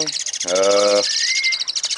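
Jalak suren and Hongkong starlings chirp out in the morning sun, a bright rapid run of close tweets broken by one loud harmonic call, with a voice speaking briefly alongside.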